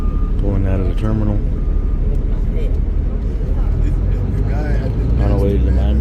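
Bus pulling out of a cruise terminal in Miami on a rainy morning, a steady engine rumble with road noise throughout, and a person talking over it.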